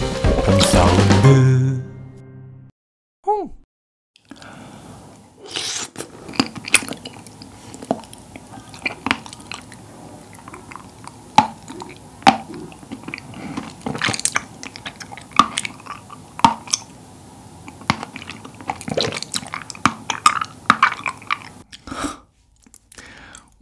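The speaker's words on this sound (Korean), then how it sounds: "한입 가득 입에 넣고 톡톡 터뜨리는 게 너무 힘들어서 그냥 삼켜버렸네" Close-up mouth sounds of chewing a large mouthful of popping boba, fruit-syrup-filled pearls, with wet squishes, soft pops and smacking in irregular bursts after a brief louder opening rustle.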